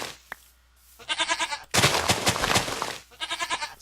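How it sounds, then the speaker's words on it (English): Goats bleat in a video game, several loud wavering bleats in quick succession, close up and overlapping, with a short sharp noise early on. "these goats are following us, and they're eating our stuff."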